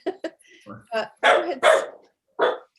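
A dog barking in a room during a police-community council meeting: several close, loud barks in quick succession, mixed with people talking.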